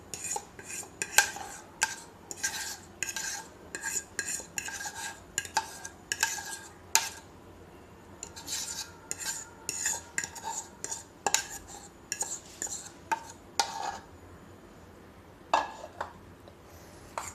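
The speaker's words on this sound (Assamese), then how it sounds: "যিখিনি আমি ঘোল বনাই থৈছিলো ডিমৰ লগত এইখিনি আমি ইয়াত মিক্স কৰি দিম" Grated potato and chopped onion being stirred into beaten egg batter for a potato pancake, with a utensil clinking and scraping against the bowl in quick, irregular bursts, close and moderately loud, with no voices.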